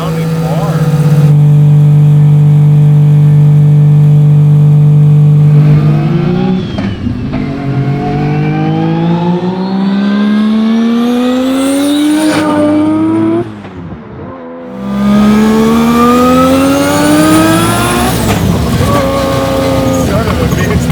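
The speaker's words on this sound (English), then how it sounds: "This thing's a super deep tone, like really good sounding car." Turbocharged three-rotor rotary engine in a Mazda RX-3 making 600 wheel horsepower, loud and close, holds a deep buzzing idle, then revs repeatedly in long rising sweeps, dips briefly, and climbs hard again.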